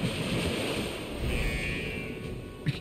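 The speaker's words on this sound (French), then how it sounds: "Ah, les jets d'eau qui sont en dessous." Water jets spray beneath the player in the Fort Boyard 2022 video game, a continuous hissing rush like surf that holds steady throughout, with a brief knock near the end.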